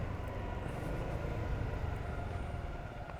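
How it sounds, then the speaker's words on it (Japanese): A train on the Kosei Line beside Lake Biwa rumbles past at a distance, a steady low mechanical drone with faint rhythmic clatter and no talking. "電車が走っております。"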